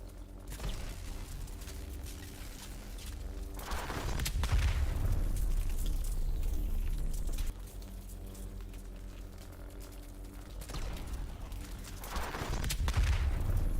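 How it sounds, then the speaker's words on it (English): Wonder weapons fired in Call of Duty Zombies on the Dark Reunion map, heavy booming energy blasts and mechanical whirs that come in waves with some quieter stretches, set against a low game ambience and no talking. "Here is me going and shooting each one of the wonder weapons at it"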